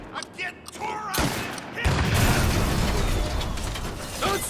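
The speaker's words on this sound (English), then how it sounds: "Gonna reload!" A gun being reloaded in the Mafia Definitive Edition video game, with sharp metallic clicks and ratcheting close up, then a dense burst of loud gunfire and mechanical clatter, while a voice speaks briefly.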